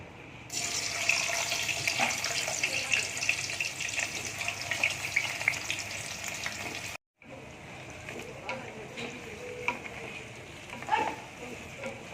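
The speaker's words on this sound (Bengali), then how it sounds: "আলুটা ওই গরম তেলে ভেজে নেবো" Partly boiled potatoes frying in hot oil, a broad steady sizzle heard close up with occasional stirring knocks, breaking off briefly midway and resuming somewhat quieter with more scattered crackles.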